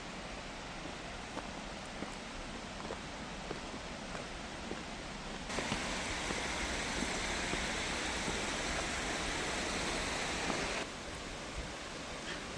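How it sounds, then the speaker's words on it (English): A small creek cascading down through hills in Olallie State Park, Washington, a steady broadband rush of flowing water that grows louder for a stretch midway, with no voices. "A nice little creek, sort of cascading down through the hills here."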